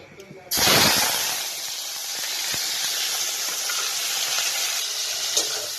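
Shrimp hit hot oil in a pan with a loud burst of sizzling that settles into a steady, crackling fry, with occasional stirring clinks.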